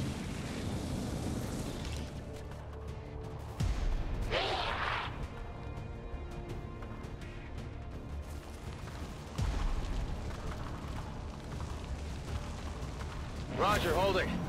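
Gunfire and explosions in the game XCOM 2 Long War 2 land as a few heavy booming bursts spaced through the stretch, with voices talking in between.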